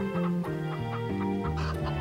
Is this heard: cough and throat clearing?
no